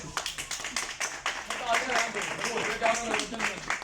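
Congregation clapping in a church, a steady run of overlapping handclaps that carries through the whole stretch, with a voice talking over it.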